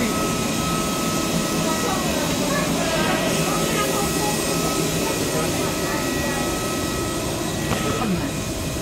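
Steady loud drone of an airplane cabin during boarding, engine and ventilation hum filling the space throughout, with a person speaking over it.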